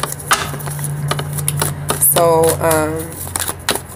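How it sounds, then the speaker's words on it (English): Tarot cards are shuffled in quick, papery riffles and flicks through the clip, with a person talking briefly partway through. "Shuffle these cards."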